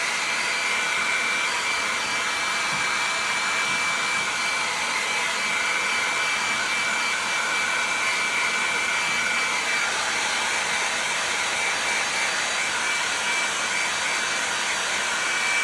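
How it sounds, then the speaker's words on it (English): A hair dryer blows air steadily over glued-in mahogany guitar linings, a loud, even whooshing roar with a faint whine that runs close and unbroken throughout. "And just back to the dryer."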